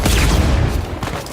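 Grenades explode in Uncharted 4 as a short, loud, low-heavy blast with rumbling debris that quickly dies away.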